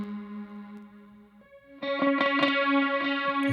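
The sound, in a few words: Soundtoys MicroShift pitch-shift effect on guitar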